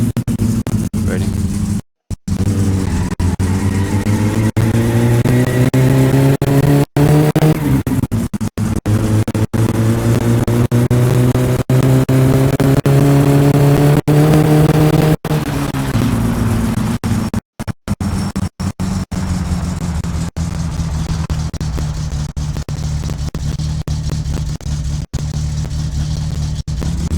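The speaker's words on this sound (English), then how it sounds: "So this is a launching start with all-wheel drive." A car in the video game My Summer Car launches from a standstill in all-wheel drive, its engine revving loudly and climbing in pitch through several long pulls, with brief drops at gear changes.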